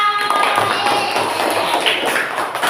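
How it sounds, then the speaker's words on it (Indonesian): Children applauding in a classroom lesson, a dense patter of small hands clapping continuously, fairly loud and near, with faint voices underneath. "tepuk tangan"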